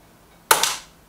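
A single air rifle shot from a Kral Puncher Pro or Weihrauch HW 110 pops once, a short sharp crack with a brief breathy tail, close and clear in an otherwise quiet moment.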